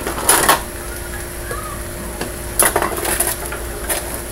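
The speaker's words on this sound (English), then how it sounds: "Trying to get a little spoony spoon for the garlic, guys." A spoon clinks against dishes and pots while codfish dinner is being cooked, with short bright metallic taps in small clusters over a low kitchen background.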